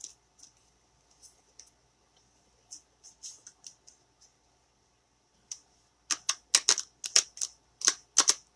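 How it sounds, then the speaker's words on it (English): Cards are shuffled in quick crisp riffles, a few scattered flicks at first, then a dense run of sharp snaps near the end, close and clear. "Let me shuffle them"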